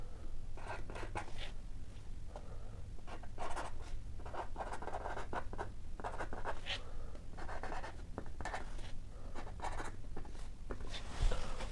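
Pen scratching across paper in short repeated strokes, close and quiet, with a faint steady hum beneath.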